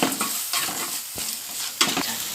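Masala for a home-style chicken curry is stirred and fried in a pan, giving a steady close sizzle broken by scraping stirs, with no talking.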